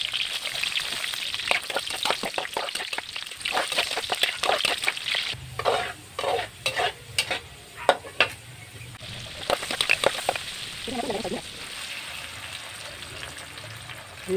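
Garlic and onion sauté in a hot pan, a light crackling sizzle with repeated scraping and stirring strokes, close and moderately loud, alone with no voices.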